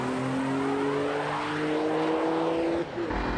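Mitsubishi 3000GT VR-4 racing, its engine note climbing in a steady rising whine before easing off near the end, moderately loud and somewhat distant.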